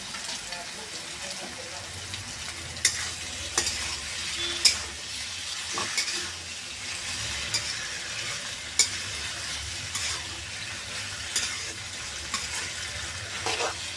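Pasta stirred and fried in a pan with beef, restaurant style, with a steady sizzle and repeated clacks of a spatula against the pan, close up, with some background noise.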